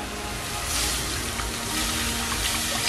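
Water pours steadily into a pot for an eggplant curry in a continuous splashing stream for a few seconds, close and moderately loud, with no talking.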